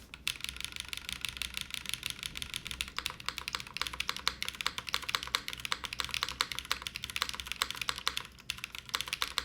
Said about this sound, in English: We're using London fog switches, which already came lubed.